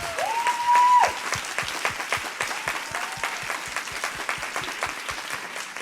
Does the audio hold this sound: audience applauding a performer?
yes